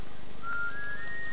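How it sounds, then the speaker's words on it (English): Proto Man's whistle from Mega Man Powered Up on PSP, a short rising electronic melody played alone over a steady game background tone. "it plays Proto Man's whistle like in Mega Man 9 when you start as him"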